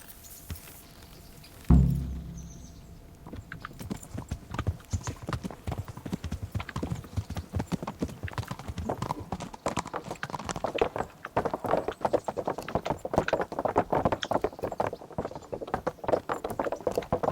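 A horse being ridden in Kingdom Come: Deliverance gives a rapid, continuous drumming of hoofbeats that starts after a short thud and holds steady and close for the rest of the stretch.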